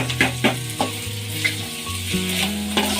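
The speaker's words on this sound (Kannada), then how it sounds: "ನೋಡಿ ಕ್ಯಾಬೇಜು ಕೂಡ ಲೈಟಾಗಿ ಫ್ರೈ ಆಗಿದೆ, ಬಾಡೋಗಿರೋ ಥರ ಆಗಿದೆ." Cabbage and mixed vegetables fry in hot oil for vegetable fried rice, a steady close sizzle broken by repeated scraping stirs of a spatula in the pan, with no talking.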